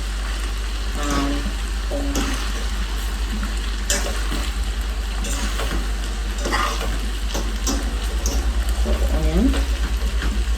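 Purple onion and scallion fry and get stirred in a pan for Jamaican ackee choch, a steady sizzle with repeated scraping stirs close by and faint background sounds throughout.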